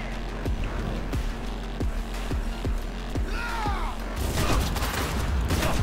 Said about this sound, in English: Oh, I love how this gun shoots.